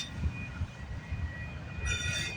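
A freight train hauling auto racks rolls past trackside on a freezing early morning, a loud, steady rumble with rhythmic wheel clatter and a sustained high metallic squeal, close and continuous throughout.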